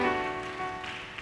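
A church congregation claps hands at a Sunday service, a dense, steady patter of applause running throughout over sustained musical tones.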